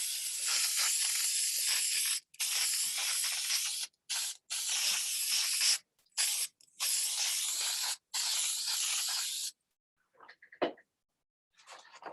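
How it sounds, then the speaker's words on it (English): Spray mount adhesive hisses from an aerosol can in several long, close bursts separated by short pauses, then stops, leaving a few faint knocks and handling sounds. "go in with the spray mount also"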